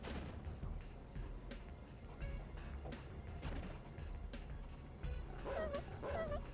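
Attack dogs barking in the Red Alert 2 real-time strategy game, a run of quick yips and barks over battle noise and faint explosions, moderately loud.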